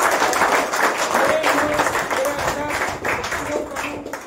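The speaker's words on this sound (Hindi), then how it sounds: "मैं चाहूँगा उनके लिए एक बार प्लीज सब लोग तालियां बजाएं" A crowd at a local political party gathering applauds, with steady, fairly loud clapping throughout and faint voices mixed into the sound.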